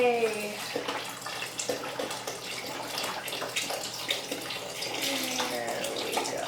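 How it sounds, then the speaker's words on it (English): Chicken broth poured from a small carton into a pot of vegetable soup, a steady splashing stream of liquid lasting several seconds, close and moderately loud, with faint talk in the background. "So I have this little carton of chicken broth, which is really convenient. And I am going to pour it in."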